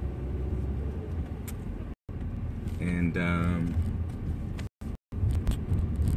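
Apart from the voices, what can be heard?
inside a car while driving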